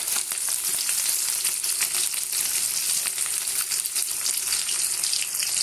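Onion and garlic frying in a pan for an okra tamarind curry make a loud, unbroken hissing sizzle, close and steady throughout with no speech.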